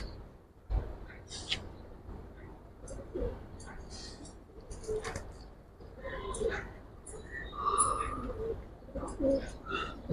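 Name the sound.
pigeons cooing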